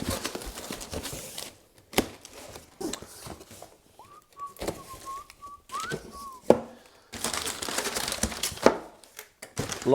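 Eco-friendly packing paper crinkles and rustles while car parts for an Audi Coupe GT are unboxed, in loud bursts with short pauses, and a voice whistles a brief tune in the middle.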